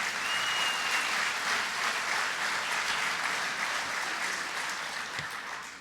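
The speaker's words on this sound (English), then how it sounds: "So give them all a round of applause." An audience at a Tribal Nations Conference panel on public safety and housing breaks into sustained, even applause that fills the room and tapers off slightly at the end.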